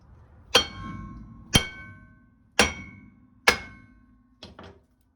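Four sharp metallic strikes from a hammer at a slow, even pace, each ringing briefly, followed by a quicker double tap, while changing rear brake pads and rotors on a 1984 Mercedes 380SL R107.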